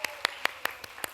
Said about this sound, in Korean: 박수 한번 보내드렸습니다.